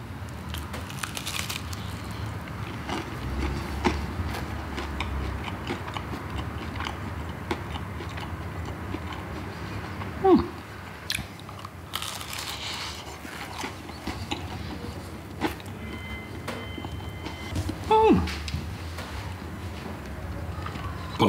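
Biting and chewing a Jumbo supermarket pizza margherita topped with Brabant sausage rolls, with close, soft crunchy bites and chewing over steady room background and a couple of louder bites.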